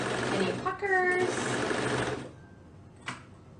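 A sewing machine stitches through three layers of fabric for a raglan shirt in a short, close, rapid mechanical whirr that stops abruptly, followed by a faint click, with a voice talking over the stitching.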